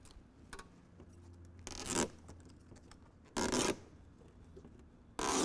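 Adhesive backing strip peeled slowly off an OE-style Husky fender flare liner on a 2024 Ford F-150, heard as three short, loud tearing rips spaced apart against quiet background.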